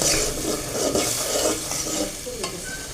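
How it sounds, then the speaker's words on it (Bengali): Spice paste (masala) frying in a pan with salt added, a steady close sizzle with stirring scrapes running through, no talk. "একটু মশলা কষানো হয়ে গেছে"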